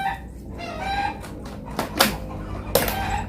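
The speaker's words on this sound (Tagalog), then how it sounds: "Maraming mga manok" Chickens on a farmyard clucking close by in short repeated bursts, with a few sharper squawks near the end and no talking.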